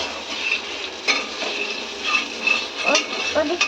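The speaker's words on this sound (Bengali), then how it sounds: "এবারে কি আলু আর বিনস ভেজে নিচ্ছ?" Potatoes and beans fry in oil for khichuri, a steady close sizzle broken by intermittent spoon scrapes and clinks against the pot.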